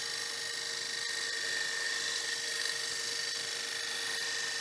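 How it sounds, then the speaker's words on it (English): A wood lathe turning a nut bowl while a gouge makes a slow slicing cut across its wooden surface, heard as a steady, even whirring hiss with no breaks. "Nice slicing cut across that surface."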